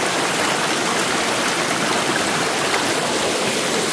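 Water rushing steadily along a stream on a farm, a loud continuous broadband splash and gurgle with no pauses and no voices.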